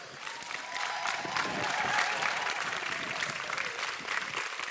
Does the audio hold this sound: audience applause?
yes